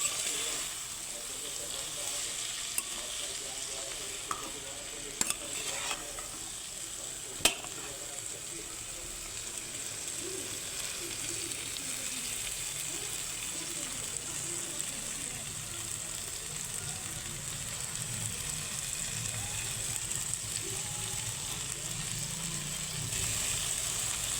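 Turmeric, chili, cumin and coriander powders with salt are stirred in a pan, giving a low, even frying hiss with a few scattered clicks of the spoon.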